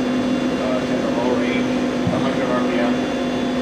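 A ROMI CNC/manual flat bed lathe with a D111 camlock spindle and a Fanuc control runs with a steady, even mechanical hum at close range, with no change in pitch.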